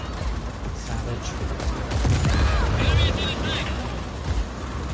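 Gunfire in the video game Just Cause 4 during a tank fight: a dense, sustained crackle of shots and rumbling blasts runs throughout, swelling in the middle, with a player talking over the action.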